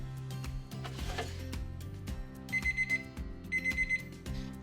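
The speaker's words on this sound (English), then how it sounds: "my chef alarm has told me that that breast meat is ready" A ChefAlarm probe thermometer monitoring turkey breast meat in the oven sounds off with two short bursts of rapid high beeping over steady kitchen background noise and clatter.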